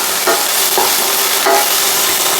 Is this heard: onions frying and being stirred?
yes